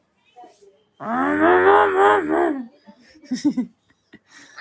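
A cow lets out one long, loud moo close by at a wedding gathering, then people chatter and laugh briefly afterward.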